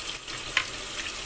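Masala frying lightly in a pan for hotel-style bhindi gives a steady soft sizzle with one small clink near the middle, brief and without speech.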